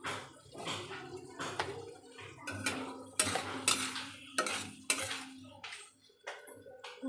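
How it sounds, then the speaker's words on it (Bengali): Fish curry masala is sautéed in a pan, with a spoon scraping and clinking against the metal in uneven bursts between short pauses. The sounds are close and fairly loud, and no one speaks. "ভালো করে এটা কষিয়ে নিচ্ছি।"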